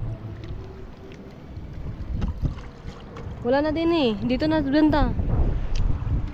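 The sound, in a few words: strong wind at sea on a boat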